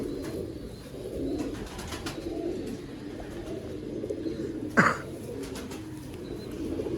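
Sialkoti pigeons cooing faintly over a low rumbling background, with one brief sharper call standing out midway.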